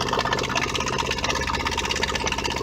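A Whale FP0184 Watermaster water pump runs with a steady, close mechanical buzz and rapid pulsing churn, a faint gurgle of air being purged mixed into the continuous drone.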